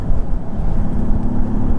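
A Honda Valkyrie motorcycle engine runs nearby with a loud, deep, continuous rumble and slight surging revs throughout the short stretch.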